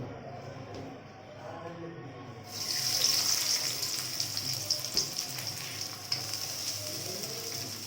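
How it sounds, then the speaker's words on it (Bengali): Onions are dropped into hot oil in a wok and burst into a bright, loud sizzle partway through, after a quieter kitchen start with faint murmuring. The close frying hiss then continues with small crackles and stirring. "কড়াইয়ে তেল দেওয়া হয়ে গেছে, এবার আমি এখানে পেঁয়াজগুলো দিয়ে দেবো।"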